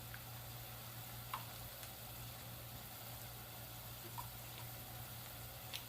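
Chicken pieces frying in hot oil for New Orleans-style mandarin chicken: a soft, steady sizzle with a faint low hum underneath and occasional tiny pops, with no talking.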